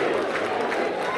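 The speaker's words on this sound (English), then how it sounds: "Now people are cheering." Supporters cheer at a primary election night headquarters for James Comer, a dense steady crowd roar with whoops and voices blending together, loud and continuous throughout.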